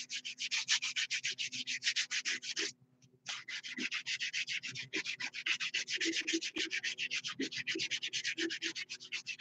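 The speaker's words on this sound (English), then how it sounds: "I'm sanding a massage tool." Rhythmic, scratchy back-and-forth strokes sanding a handmade massage tool, close and steady, with one brief pause partway through.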